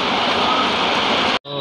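Heavy rain falls steadily at a market crossroads, a loud dense wash of noise that cuts off abruptly near the end before resuming more faintly.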